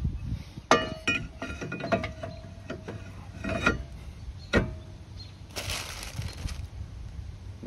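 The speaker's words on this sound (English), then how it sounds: "And we can pop our rotor on now." Metal clinks and knocks as a brake rotor is fitted onto the rear hub of a 2011-2018 Toyota Camry, with several sharp close impacts and rattles in a garage setting, no speech.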